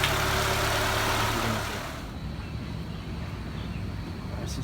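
A Honda Civic hatchback engine runs close by, loud and raspy at first before dropping to a lower, steady idle-like hum for the rest.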